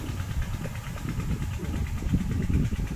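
The engine of a borrowed water pump used for irrigation runs at a steady idle, a continuous rumbling chug with a faint rhythmic knock, heard fairly close and alone.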